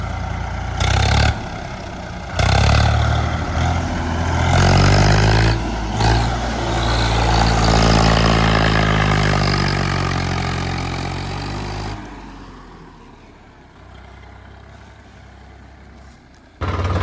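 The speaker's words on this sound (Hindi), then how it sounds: "इस ट्रैक्टर को भिजा रहे हैं अपन एक जगह" A tractor, Swaraj or Massey, with its engine running and revving, loud and close, with repeated surges in the first half, then settling to a quieter idle.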